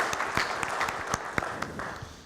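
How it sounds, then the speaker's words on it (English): An audience at an academic conference closing session in Johannesburg applauds, scattered individual claps standing out sharply over a thinner, steady clapping bed, fairly close and alone without talk. "Can we give them a round of applause, please?"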